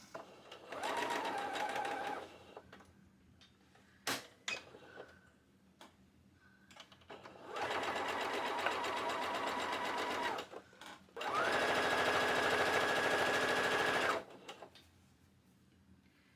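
A sewing machine top-stitches fabric in three steady bursts of rapid stitching, separated by quieter pauses with a few clicks and light handling noises.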